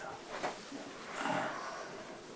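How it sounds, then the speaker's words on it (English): Slow, deep breaths, one short and one longer airy inhale-exhale, soft and close with no speech. "Deep breathing. Deep breathing."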